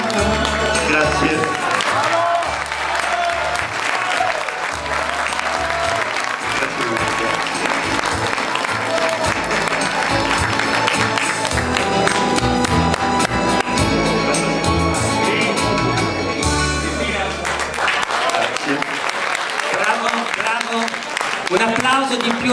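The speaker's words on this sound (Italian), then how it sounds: "Un applauso di più a Salvatore perché ha cantato questa canzone" Audience applauding after a student singer's performance at a Carnival recital of a modern singing course in Milan, steady dense clapping filling the whole stretch at high level, with some voices and background sound mixed in.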